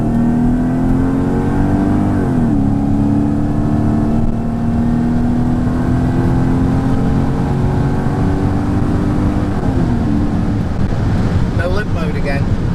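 A Mercedes-Benz E55 AMG W210 with a Kleemann 55-K2 supercharger and a misfire accelerates in drive: a loud, close, steady engine drone that climbs in pitch, drops briefly at gear shifts, then climbs again, with wind noise throughout.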